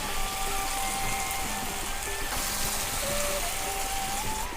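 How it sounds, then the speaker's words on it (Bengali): Water poured into a pan of shahi paneer masala after the spiced base has cooked down and released its oil, a steady splashing trickle that runs on without a break. "আমি এবারে জল দেব।"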